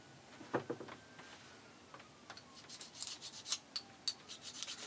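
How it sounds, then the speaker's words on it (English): Lathe chuck jaws polished by hand during chuck maintenance, soft close rubbing strokes with small ticking contacts, quiet and irregular at first, then brighter and more frequent, with no voices. "this is not taking any material off, it's just like, just polishing it up really"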